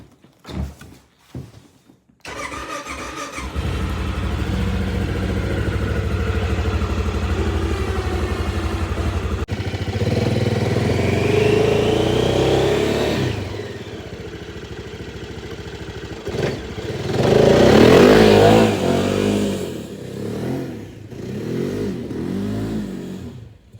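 A 2023 Tracker 600 utility vehicle engine is cold started after a cranking click. It catches into a loud, steady idle, then revs rise and fall up close with no talking.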